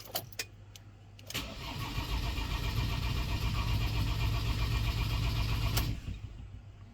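A Ford Transit engine cranks on the starter with a few rapid clicks, then catches and runs at a steady, loud idle for several seconds before cutting off near the end.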